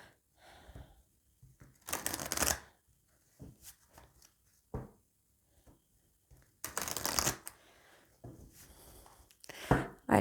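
Oracle des miroirs cards shuffled and cut by hand, close up, with two loud riffling bursts and scattered softer taps and card slaps between them.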